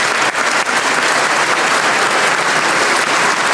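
Loud, dense round of applause from the audience at a small business recognition awards ceremony, a continuous wash of many clapping hands sustained from start to finish with no break.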